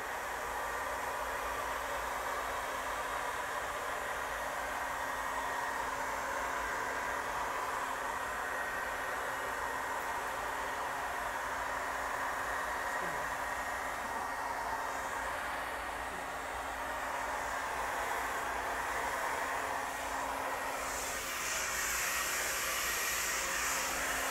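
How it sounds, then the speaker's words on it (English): A hair dryer blow-drying hair in a salon during a hair straightening class, a loud, steady, close whooshing roar that runs without a break, shifting slightly in tone as the airflow moves. "Work it through the hair, and then finish the blow dry"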